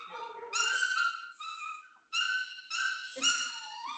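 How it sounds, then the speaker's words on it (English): An excited dog whimpering and whining in greeting, a string of high, tonal yelps and squeaky cries rising and falling in several bursts, close and fairly loud. "That is a dog greeting her parent."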